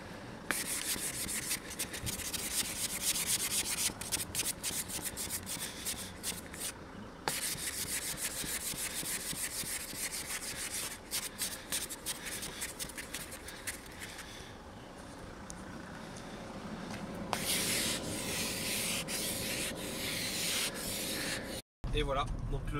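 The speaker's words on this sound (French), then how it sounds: "C'est le moment où je découvre qu'il faut dégivrer. Il va falloir gratter." Frost being scraped off a car windshield in winter, a continuous rough rubbing and scraping that stays loud and steady for most of the stretch, with short pauses and a brief dropout near the end.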